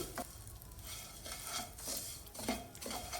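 Vermicelli browning in a pan for sheer khurma is stirred after a spoonful of ghee goes in, giving a continuous soft sizzle broken by repeated scraping strokes of a spoon against the metal, close and steady.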